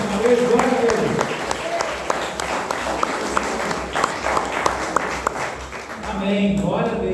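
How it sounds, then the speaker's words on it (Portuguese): Church congregation applauding during a Portuguese-language healing service, a dense steady patter of many hands filling the room while voices call out over it, fading briefly before rising again near the end. "Aplauda o Senhor mais uma vez, glória a Deus."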